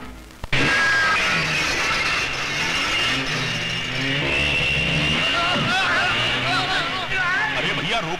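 Motorcycles ride in with a close, loud, continuous mechanical engine drone that shifts in pitch over several seconds, with people talking over it.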